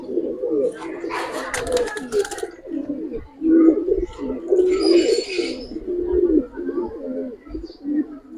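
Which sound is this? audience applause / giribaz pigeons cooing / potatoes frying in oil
giribaz pigeons cooing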